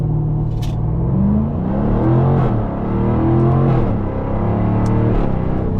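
A 2024 Jaguar F-Type R75 with a V8 roars through a launch-control start, a loud, steady engine rumble with rising revs that holds for about six seconds with no talking.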